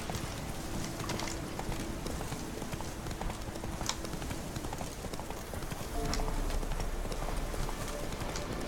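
Steady clip-clop of horse hooves galloping in The Witcher 3: Wild Hunt, fairly loud and continuous, with a faint hum of game ambience underneath.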